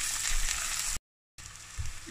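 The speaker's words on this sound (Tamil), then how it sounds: "இது போட்டு நல்லா சாட்டே பண்ணிடலாம். நல்லா ப்ரௌன் ஆகிற அளவுக்கு நம்ம ஆனியன் வந்து நல்லா வேக விடணும்." Onions sautéing in a pan with garlic paste for mutton biryani, a steady bright sizzle that cuts out briefly and resumes, close and alone.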